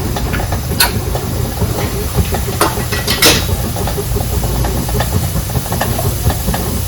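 Cumin seeds sizzle in hot oil in a pan for a wedding-style brinjal curry, a continuous close hiss with sharp spatters and pops throughout, no talking.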